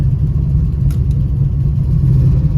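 A Buick Regal with failing forward gears creeping in reverse: a low, steady engine rumble close by, with a brief clunk near the start, and no talk.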